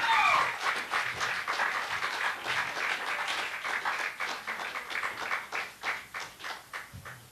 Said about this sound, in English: Round of applause for Esno.